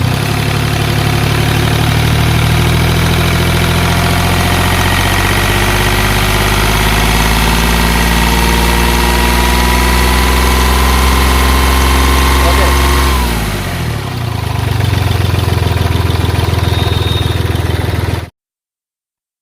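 A Hyundai Grand i10 petrol car engine runs with a loud, steady hum, then its pitch swoops and shifts as the throttle changes near the end before the sound cuts off abruptly.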